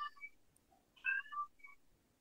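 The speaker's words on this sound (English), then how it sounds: "That's my cat." A house cat gives a few short, faint meows in a quiet indoor room, with soft chirpy calls spaced across the moment and a sharp click at the very end.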